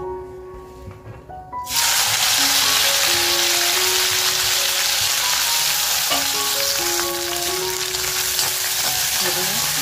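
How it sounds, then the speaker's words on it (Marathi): Dried fish dropped into hot oil bursts into a loud, sudden sizzle that holds steady, a dense hiss with faint bubbling, heard close and alone. "आता तापलेल्या तेलामध्ये मी ही मच्छी फ्राय करून घेते छान मस्त"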